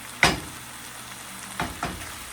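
Picadillo sizzles in a pan on the stove, a soft quiet frying hiss broken by three sharp bursts of spatter or stirring, with no voices.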